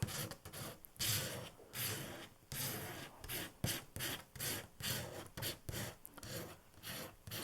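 A painting knife scrapes across a distress crayon, making repeated rasping strokes in short bursts with brief pauses between them, close and fairly loud, with no talking.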